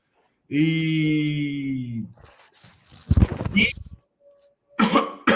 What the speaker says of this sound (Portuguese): tô dor de garganta, tossindo pra caramba